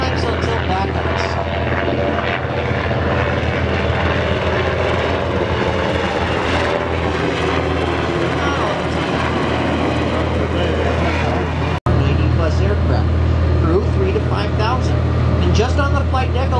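Loud, continuous roar of jet and helicopter engines overhead on an aircraft carrier flight deck, with rotor chop and a sharp click partway through.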